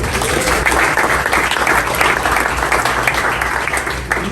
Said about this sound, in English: They're all amazing local leaders and deserve a round of applause.